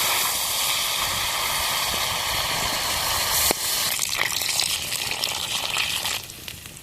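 Steady rushing gush of water pouring into a cooking pot of sautéed chicken gravy ingredients, shifting in tone partway through before tapering off near the end.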